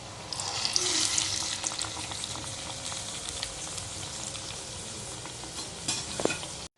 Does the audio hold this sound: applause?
no